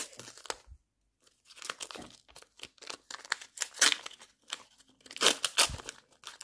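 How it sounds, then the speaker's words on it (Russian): A small paper packet is ripped open up close, bursts of crisp tearing and crinkling coming in uneven spurts with short pauses between. "И открываем этот пакетик."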